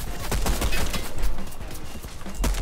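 Rapid bursts of gunfire with booming explosions from a Fortnite match, loud and continuous through the short stretch.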